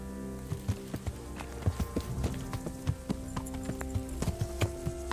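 Horse hooves clip-clop in a steady walking rhythm on a hard surface in the video game Kingdom Come: Deliverance, close and clear, over a low musical background.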